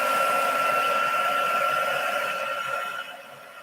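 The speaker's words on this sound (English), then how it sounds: "Give that a little heat, maybe just to dry those up." A heat tool blows a steady, close airy whoosh to dry watercolour on stamped flower images, holding level for about three seconds before easing slightly at the end, with no talking.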